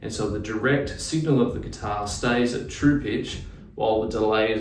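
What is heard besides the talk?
No everyday noises stand out.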